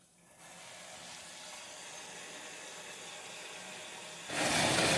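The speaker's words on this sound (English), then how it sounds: "filling that sink up pretty good because I think I got a little too much vinegar initially" Tap water pours steadily into a sink being filled to soak dandelions in a vinegar wash. A close, continuous hiss of running water plays alone and swells louder in the final moment.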